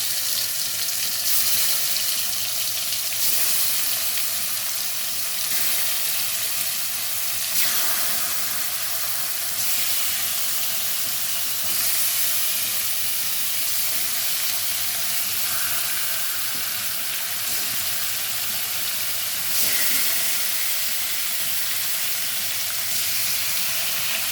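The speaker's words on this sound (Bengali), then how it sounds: "এবার আমি এতে মাছগুলো দিয়ে দেবো, সব মাছগুলো।" Fish hissing and sizzling in hot oil with ground spices in a pan for a Bengali aar fish rosha curry. It is a steady, loud, broadband frying noise that carries on throughout, close up and with no talking.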